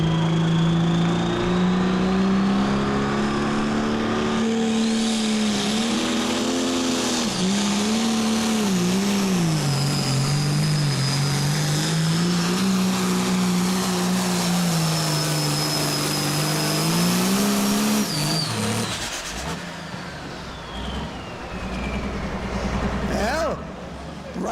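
A pulling tractor at a county fair tractor pull roars loudly and continuously as it drags a sled down the track, its engine pitch rising and dipping with throttle changes before cutting off near the end, with a crowd and announcer's voice blended in.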